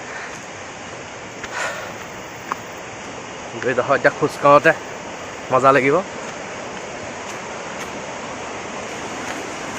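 Roaring water of Linhojar waterfall in West Karbi Anglong, a steady broadband rush running the whole time, heard from some way off as people talk briefly over it.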